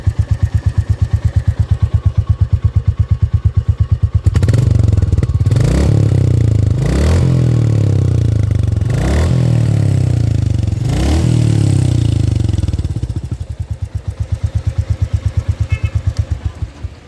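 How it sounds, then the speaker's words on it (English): A 2022 Royal Enfield Classic 350 motorcycle idles with a rumbling beat, then revs sharply several times in quick bursts of rising and falling roar before dropping back to idle. "let's hear the exhaust note of this motorcycle"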